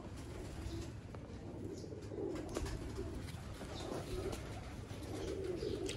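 Salara Teddy pigeons coo in low, soft repeated bursts, with faint chirps and occasional wing flutters against steady background noise.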